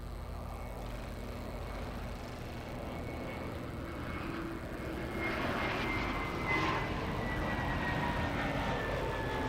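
An airplane passes at LAX, a steady broad engine roar that swells gradually toward the end, heard from a distance without any talk.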